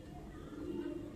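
Domestic pigeons at a home loft give a faint, short, low coo that swells briefly and then fades, heard quietly against a soft background.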